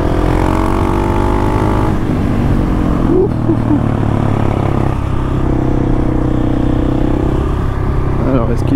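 A Husqvarna 701 motorcycle engine drones loudly and steadily throughout, with shifts in pitch as the rider changes speed; someone talks over the engine noise.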